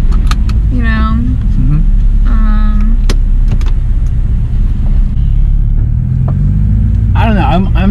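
An Infiniti G35 with a muffler delete rumbles loudly and deeply throughout, a heavy constant drone with people talking over it.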